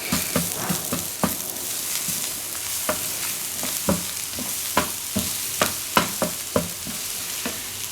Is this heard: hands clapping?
no